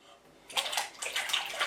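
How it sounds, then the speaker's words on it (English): Water runs into a pot for boiling six potatoes, a steady splashing rush that starts after a brief quiet moment and continues close and fairly loud to the end. "I have 6 potatoes here. We're gonna place that in the water,"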